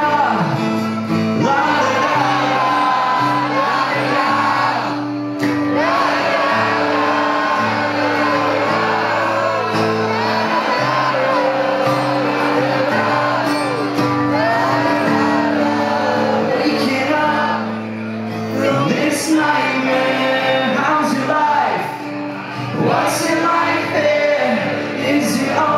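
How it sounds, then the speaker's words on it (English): A large crowd sings a guitar solo melody together loudly at a concert in Prague's Lucerna hall, with whoops and shouts rising over the voices. "I'm gonna need you guys to sing the guitar solo for me"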